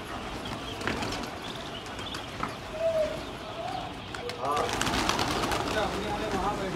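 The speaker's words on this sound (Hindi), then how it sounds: "देखिए भाई सब कबूतर इधर से उधर कर रहा है भाई" Racing pigeons move about in a loft, a busy mix of soft cooing, wing flutters and scuffling, with faint voices in the background.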